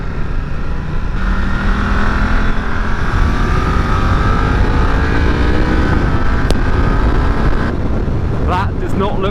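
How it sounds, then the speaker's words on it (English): A motorcycle engine with a quickshifter-style downshifter, revving steadily and close, with pitch steps as gears drop, under continuous wind noise and a brief voice. "the downshifter is so good on this bike"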